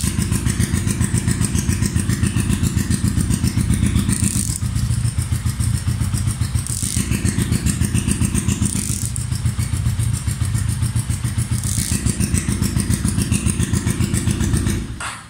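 A modified 230cc motorcycle engine runs with a loud aftermarket exhaust, a close, steady, rapid burbling pulse that swells briefly several times as the throttle is blipped, then cuts off at the end.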